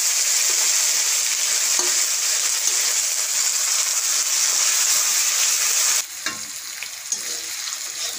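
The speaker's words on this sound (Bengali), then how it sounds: "তেলের মধ্যে দিয়ে দেব শুকনো লঙ্কা, কাঁচা লঙ্কা, এখানে জিরের গুঁড়ো দিয়ে দিব" Dry chillies, green chillies and cumin powder sizzling steadily in hot oil, a loud continuous frying hiss that drops and grows quieter near the end.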